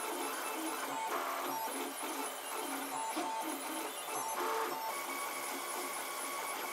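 A 3D printer prints a part with a steady, faint whirring of stepper motors and shifting mechanical tones that continue throughout, with no voices.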